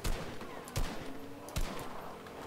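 Gunfire in a multiplayer shooter video game, two or three bursts of rapid shots at a moderate distance, separated by short pauses.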